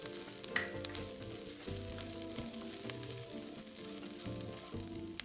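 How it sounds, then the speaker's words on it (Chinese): Sliced shallots and garlic cloves fry in a spoonful of cooking oil in a pan, giving a steady, close, crackling sizzle with small pops throughout and no voices. "油爆至红葱片溢出香气"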